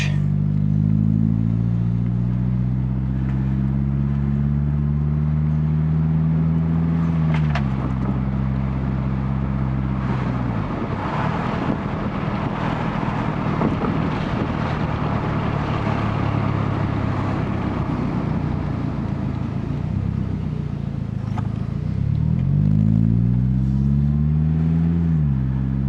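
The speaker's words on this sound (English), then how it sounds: "Just shifts kind of, it doesn't want to rev up much and doesn't really want to move" A 1987 Toyota Camry engine revs and drops through gear shifts while driving, a steady loud drone with rising and falling pitch sweeps at the start and end, sounding sluggish and reluctant to climb.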